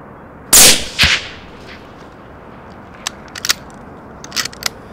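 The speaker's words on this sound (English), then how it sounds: "At a little over 200 yards, and with our selected stag now clear of the adjacent animal, we take the shot." A single loud, close rifle shot is fired at a sika deer stag from just over 200 yards with a 100 grain bullet. A sharp crack and echo follow, then faint clicks and rustles.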